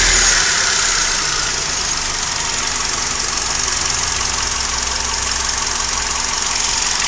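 An old Hyundai i20 petrol engine starts and keeps running with a steady, vibrating drone and a faint whine on top, loud and close, with no one talking.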